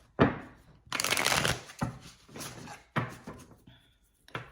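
Tarot cards are shuffled close up in several short bursts of riffling and rustling, separated by brief pauses.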